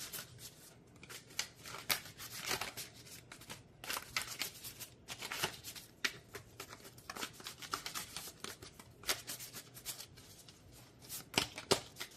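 A deck of tarot cards is shuffled close up, with steady riffling and sliding bursts repeating for several seconds in a quiet room.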